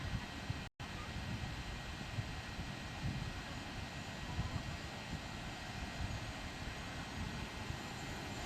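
A small drone flies overhead near Donner Lake, its steady motor drone running broadband and continuous for the whole stretch, loud and close, with talk over it.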